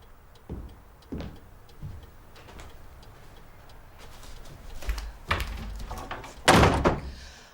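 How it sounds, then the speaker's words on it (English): An indoor door shut firmly, heard as several thuds and knocks building to a loud slam near the end, with no talk over it. "Just come in and shut the door."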